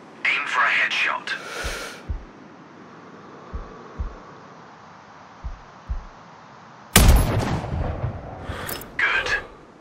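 A sniper rifle fires in Sniper Ghost Warrior Contracts, a single loud crack with a rumbling tail partway through, amid game ambience, soft low thumps and a spoken voice.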